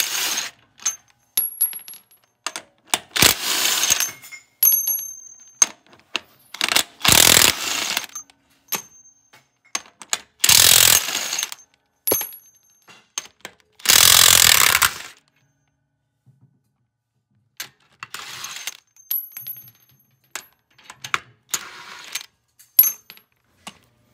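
A DeWalt cordless impact wrench fitted with a large socket works bus lug nuts, firing in repeated short rattling bursts separated by quiet pauses, with a few longer loud hammering runs and metallic clinks in between.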